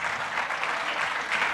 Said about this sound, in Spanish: les pido un aplauso, las dos glorias con G mayúscula del país